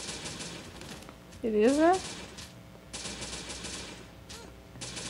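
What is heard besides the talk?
gunfire from gun in video game Jurassic Survival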